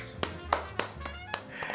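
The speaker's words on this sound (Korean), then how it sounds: "박수" A few soft, separate hand claps or taps, about five in under two seconds at an uneven pace, faint against a quiet room background.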